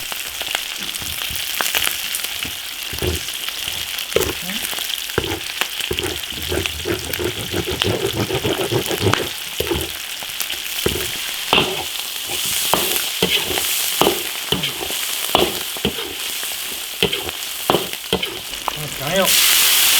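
Ginger, garlic and doubanjiang stir-fried in an iron wok, a continuous loud sizzle broken by frequent sharp scrapes and knocks of the spatula against the metal, with the sizzle swelling at the very end.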